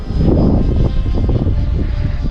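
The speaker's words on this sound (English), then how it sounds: "Again, this is a jet F-16. You definitely need to keep the speed up." An RC model F-16 jet aircraft flies past loud and close, a dense rushing engine whine with fluttering, buzzy texture throughout, no voices.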